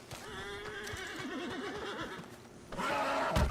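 Horse in a video game whinnying loudly with a long, wavering neigh, followed by a burst of clip-clop hooves and clatter near the end.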